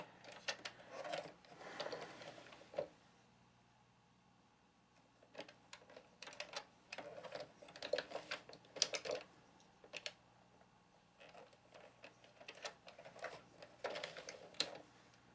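An Addi Pro knitting machine cranked by hand makes bursts of rapid mechanical clicking and ticking that stop and start, with quiet pauses between rounds.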